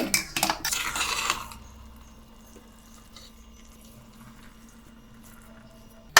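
Chicken biryani made with seeraga samba rice is stirred in its pot once the water has dried off, giving a loud scraping clatter for about a second and a half before fading into a quiet, steady background hum.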